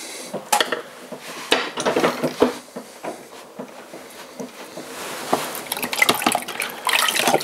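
Wet splashing and dripping as water is worked over clay being thrown on a Leach potter's wheel, with irregular sloshes and clatters close by, fairly quiet and uneven.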